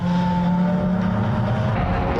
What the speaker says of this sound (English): Burley then accelerates out of the last corner, comes across the start-finish line.